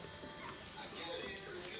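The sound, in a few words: puppies whimpering and yipping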